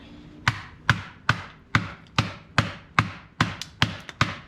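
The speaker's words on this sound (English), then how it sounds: "So now just take a hammer." Hammer blows knock wood chips off a cut log at a cabin build, about ten sharp, evenly spaced whacks ringing close and loud with no talk.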